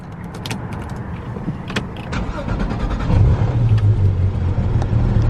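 A Porsche 911 GT3 engine cranks and catches, settling into a deep, steady idle rumble that grows louder, with small clicks and rattles before it.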